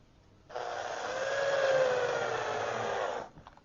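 A power drill drives a pan head screw into a wooden clamp for an arched cabinet door, one continuous whirring run of about three seconds that starts and stops abruptly, close and fairly loud, with no voices.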